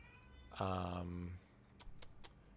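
A cat meows once, a clear drawn-out tonal cry close by, followed by a few faint clicks of typing on a computer keyboard.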